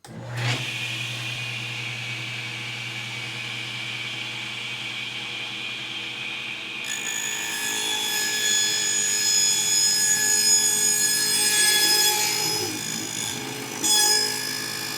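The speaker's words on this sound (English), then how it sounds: "we're gonna turn the table saw on, we're gonna hold it like this, align it, and just drop it through and let the blade cut its way as we drop it" A table saw spins up with a loud, steady motor hum, then its blade cuts up through a zero clearance insert, adding a harsher, brighter grinding layer for several seconds before easing off, close by with no talk.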